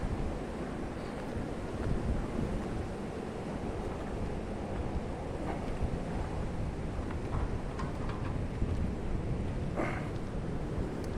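Rough, churning sea breaks on a hidden beach near Ratnagiri on the Konkan coast, a steady broad roar of surf mixed with wind noise on the microphone.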